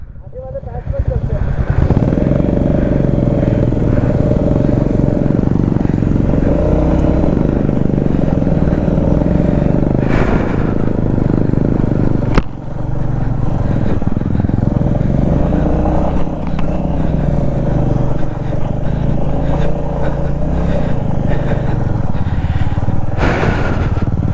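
Royal Enfield Meteor 350 motorcycles off-roading on a rough trail near a temple, with a steady loud engine rumble running throughout, a brief dip midway, and people talking over it.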